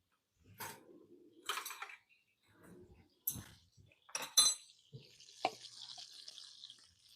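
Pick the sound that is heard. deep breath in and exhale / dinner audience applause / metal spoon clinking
metal spoon clinking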